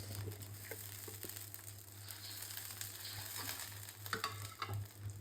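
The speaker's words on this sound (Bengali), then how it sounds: "আর স্বাদ মতো লবণ মশলাটা কষি আপনাদের দেখাচ্ছি" A spice paste of ginger, garlic and green chili with water and salt sizzles and fries steadily in a pan as it is stirred. Scraping and crackling come close and clear, with a constant low hum underneath.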